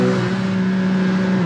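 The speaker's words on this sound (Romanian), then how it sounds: "se audă și mai bine murmurul celor 6 cilindri boxer, în special la turații mari" A Porsche six-cylinder boxer engine with a seven-speed manual gearbox holds a loud, steady, high-rev drone with a smooth, even tone, close and alone.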